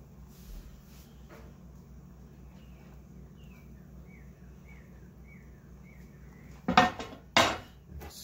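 Cheese being stirred into a thickened sauce in a pan: quiet low kitchen hum through most of the stretch, then two sharp, loud metallic scrapes and clinks of utensil against pan near the end.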